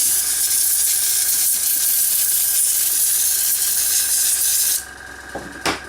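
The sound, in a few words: spraying air into laptop grill to clean it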